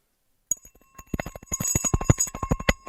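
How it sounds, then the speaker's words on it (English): Stock market opening bell ringing at the start of a live trading session, a rapid run of bright metallic strikes building in loudness over a couple of seconds after a brief silence. "5 seconds to the bell"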